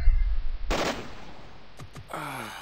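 Gunshots in Jagged Alliance 2 come as a sharp loud crack followed by a noisy decaying tail, then a few short thuds and a tonal game sound at the end.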